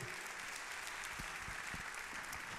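Audience clapping at a startup awards ceremony, steady applause throughout, moderately distant and fairly soft, with no talk over it.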